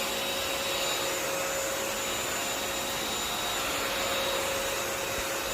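A Bissell Crosswave Pet Pro vacuum cleaner runs steadily indoors near a dining table, a loud, even motor whine and airflow roar with a constant high tone, unbroken for several seconds and with no talking.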